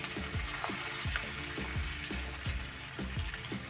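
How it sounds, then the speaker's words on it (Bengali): Continuous crackling sizzle of fish frying in hot oil in a wok, with repeated soft knocks from a utensil at a regular rhythm, close by. "কড়াইতে তেল গরম করে এক এক করে মাছগুলো দিয়ে দিচ্ছি"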